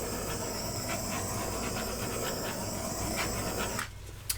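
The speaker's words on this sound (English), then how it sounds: "let's torch." A torch flame hisses steadily and up close over an acrylic ring pour with silicone added, a broad continuous rush that cuts off near the end, leaving faint background sounds.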